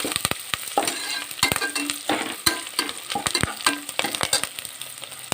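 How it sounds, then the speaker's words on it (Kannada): Curry leaves fry in a hot pan, a loud continuous sizzle and crackle broken by sharp pops and scrapes of stirring, close and steady with no voices. "ಕರಿಬೇವಿನ ಎಲೆ ಕೂಡ ಈಗ ಚೆನ್ನಾಗಿ ಹುರ್ಕೊಂಡಾಗಿದೆ"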